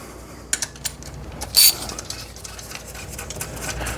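Ratchet removing nuts on a 2020 Toyota Avalon engine, a few quick close clicking ratchet bursts with one sharp louder metallic clack, then quieter background.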